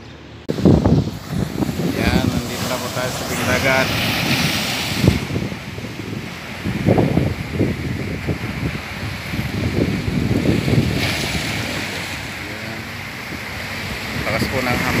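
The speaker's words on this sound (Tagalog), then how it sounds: "Lakas po ng hampas ng alon." Strong ocean waves crash on a seaside shore in loud, close surges and washes. Wind buffets the microphone and a person speaks at times over the surf.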